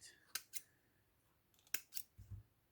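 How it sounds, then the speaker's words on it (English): Scissors snip through bracelet cord in a few crisp, close metallic clicks, with a short pause between pairs of cuts and a soft rustle and thump of handling at the end. "Cut it off at this point,"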